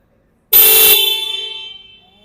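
Mitsubishi car horn triggered remotely through the Mitsubishi Connect phone app, one loud, sustained, bright honk that cuts in sharply and then fades over about a second and a half.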